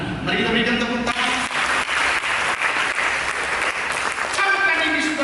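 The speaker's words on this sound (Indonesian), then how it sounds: "Mari kita berikan tepuk tangan." A church congregation applauds at a worship service, with dense, continuous clapping from many hands that holds steady at close range. Scattered voices sit beneath it.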